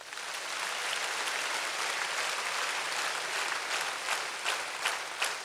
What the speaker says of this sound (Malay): Tepuk tangan saja tak cukup.